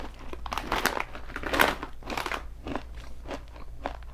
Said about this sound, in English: I'm gonna have a little more I'm gonna chew on this